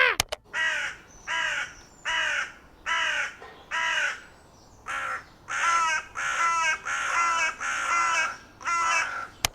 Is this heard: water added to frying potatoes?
no